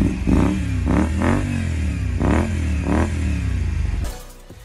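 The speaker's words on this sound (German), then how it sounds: "Ich hatte davor einen Auspuff ohne ABE drin, der war laut, schön laut." A Honda Varadero 125 motorcycle with a loud aftermarket exhaust revs up repeatedly, four or five rising and falling throttle blips close by, ending in a brief rattle.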